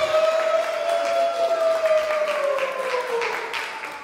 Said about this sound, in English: I think our couple deserves another round of applause.